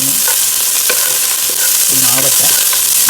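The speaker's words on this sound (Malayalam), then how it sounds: "ഈ ജീരകം ഒന്ന് പൊട്ടി വരുമ്പോഴേക്കും നമ്മൾ അതിലേക്ക് വെളുത്തുള്ളിയും ചെറിയ ഉള്ളിയും നമ്മൾ ആഡ് ചെയ്യാം" Garlic and shallots fry with cumin in a hot pan, giving a loud, continuous sizzle broken by several scraping stirs of a utensil.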